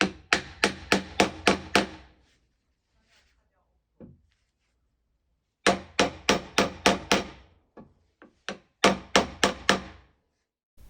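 Bursts of rapid metallic hammer blows driving a wheel bearing into the hub of a Mercedes W124, several quick strikes in each series with short pauses between, close and sharp.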